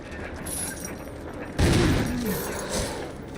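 A shotgun fired in a first-person video game: one sharp, loud blast hits mid-clip, then a mechanical pump-action clack follows, and a second, lighter report comes shortly after.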